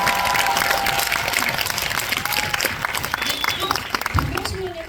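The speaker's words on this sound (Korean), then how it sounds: "박수 한번 부탁드립니다" Thick, sustained applause from a film screening audience fills the room, with voices talking over the clapping throughout.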